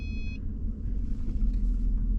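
Reversing into a parking spot in a Jeep Commander, the backup sensor sends a quick run of steady electronic beeps at the start, over a low engine rumble that continues afterward.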